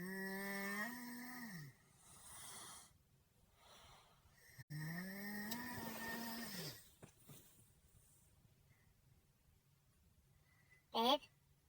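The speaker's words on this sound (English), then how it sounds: "Are you gonna stop snoring?" Person snoring close by indoors, two long rasping snores followed by quieter breathing, then a short sharp sound near the end.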